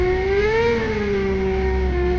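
A bike engine revving as it rides off toward a jungle, heard as a loud, steady whirring drone whose pitch rises and then settles into a sustained hum, close and alone.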